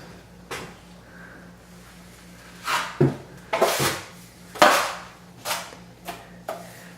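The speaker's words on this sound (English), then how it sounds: "So just spreading it out with the 10-inch." A 10-inch drywall knife spreading joint compound over a wall, heard as several short scraping swipes in irregular rhythm, fairly quiet and close, with low hum between strokes.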